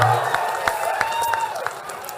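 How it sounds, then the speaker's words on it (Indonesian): Audience applause at a public event with a political figure: dense clapping and crowd noise filling the hall, fairly loud and steady throughout, with sharp individual claps standing out and a faint whistle-like tone running underneath. "Tepuk tangan dulu, lihat tepuk tangan dulu."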